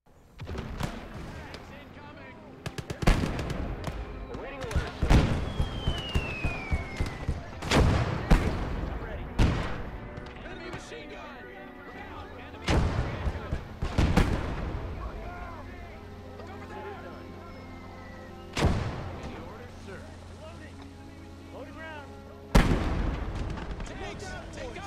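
Mortar and gunfire in a hedgerow combat video game: a series of sharp, loud blasts and cracks at irregular intervals, some in quick volleys, with rumbling tails and smaller pops between them.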